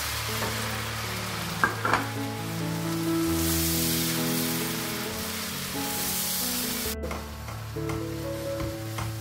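Tomatoes sizzle and are stirred in a hot pan while preparing masoor lentils, a steady close frying crackle with occasional scrapes of the spoon, no voices.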